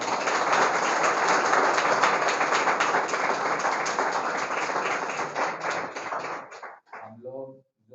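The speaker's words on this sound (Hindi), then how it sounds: "तो अरुण जी का धन्यवाद करें तालियों के माध्यम से" An audience at a Gurukul talk gives steady, dense applause that continues for several seconds and then thins out into a few scattered claps at the end.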